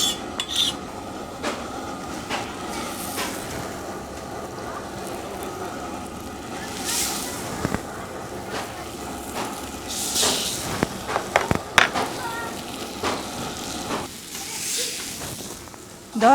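Fish fries on a heavy iron dosa pan over a stove, with soft hiss and sizzle, scattered metallic clinks and scrapes of utensils, and occasional speech in the background.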